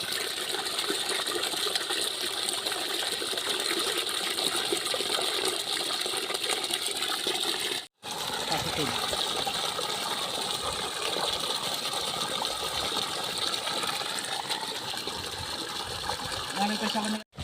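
A newly installed solar-powered water pump gushes water in a steady, rushing stream, loud and continuous with a brief break partway through, with no one talking over it.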